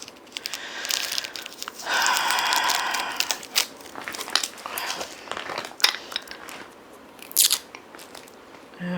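Tape peels and crinkles off a small heart-shaped music box in close, loud bursts of tearing and crackling, steady at first, then in shorter scratchy pulls, with no voices.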